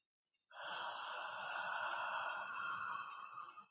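A deep inhalation during a breathing exercise: after brief silence, one long, steady, airy intake of breath that lasts about three seconds, close and soft.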